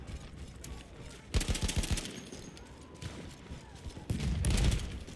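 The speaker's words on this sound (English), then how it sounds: "Whose machine gun will win?" Machine gun fire in Battlefield 1, with rapid bursts of automatic gunfire separated by quieter gaps, loud and close, the last burst heavier and booming.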